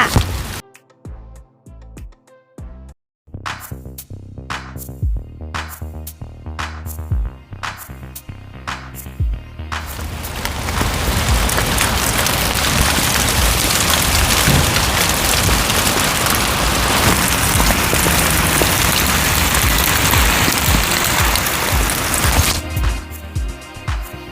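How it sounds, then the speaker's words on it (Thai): Hail falls heavily outdoors. It starts as scattered sharp individual impacts, then builds into a dense, continuous clatter that lasts until near the end. "บ้าจริงข้างนอกลูกเห็บตกค่ะ ตกใหญ่เลย"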